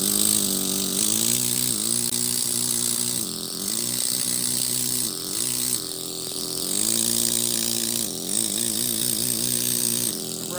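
A one-inch stone carving machine cuts into stone with a loud, steady mechanical whine and buzz. It comes in surges of several seconds each, with brief dips in pitch between cuts.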